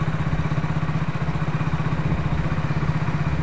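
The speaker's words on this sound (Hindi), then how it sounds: "बाइक बिल्कुल सही हो चुकी है, कोई दिक्कत नहीं रही बाइक में और अब बंद भी नहीं होती है बाइक।" A Hero Splendor Plus BS6 motorcycle engine idles steadily up close after a repair for stalling, a loud even low thrum with a regular pulsing rhythm and no talk.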